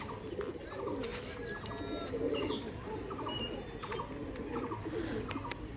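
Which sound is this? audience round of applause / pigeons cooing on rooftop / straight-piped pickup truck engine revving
pigeons cooing on rooftop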